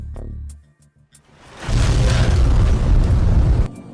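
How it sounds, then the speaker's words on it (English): A bunker's self-destruct explosion in Fallout New Vegas erupts as a loud, sustained rumbling blast lasting about two seconds, preceded by a few short electronic tones and sharp clicks, then cutting off abruptly. "activate the bunker's self-destruct sequence, then run out of there before the place blows"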